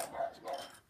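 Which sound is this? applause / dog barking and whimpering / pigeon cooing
dog barking and whimpering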